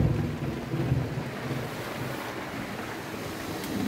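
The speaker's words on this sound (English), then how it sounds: "Loud clap of thunder." A thunderstorm rumbles outside a camper van, a low rolling boom at the start fading into a steady wash of rain and wind.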